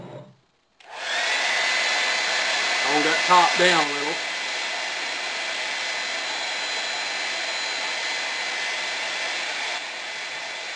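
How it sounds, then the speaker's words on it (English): A steady, loud blowing roar of a hair dryer heating the top of a homemade plum wine bottle runs continuously after a brief pause, with a voice speaking briefly over it early on. "Then you take the blow dryer,"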